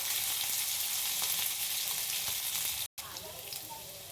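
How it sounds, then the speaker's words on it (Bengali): Chopped ginger fries in a pan with a soft, steady sizzle and light stirring, fairly quiet and close, broken by a brief gap of silence midway before the crackle resumes. "আদাটাকে কেটে রেখেছিলাম, কেটে রেখেছিলাম। এটা একটু ফ্রাই হবে।"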